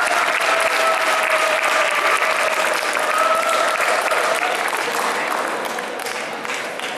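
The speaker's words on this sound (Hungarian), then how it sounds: "Hatalmas taps!" Loud, sustained crowd applause follows prize winners announced at an autumn convention's Sunday awards ceremony, dense and even for several seconds before slowly fading near the end.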